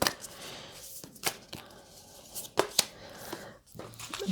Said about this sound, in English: I'm just going to give it a shuffle before I just let something drop